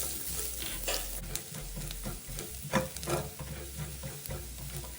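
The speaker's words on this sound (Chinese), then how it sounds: "原货不需加油，直接将蒜末倒入爆香" Minced garlic sizzling in a hot wok with no added oil, a moderate crackling fry broken by repeated spatula scrapes and stirring knocks, with a low rumble of the burner underneath.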